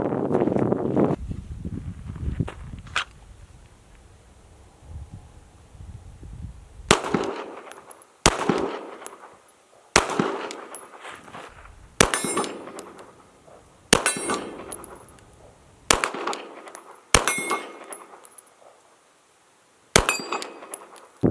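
A handgun fitted with a red dot sight fires at targets set at 30 feet and 27 yards: about eight sharp, loud shots at irregular intervals, each with a ringing metallic clang, and no talk.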